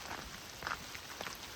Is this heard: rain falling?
yes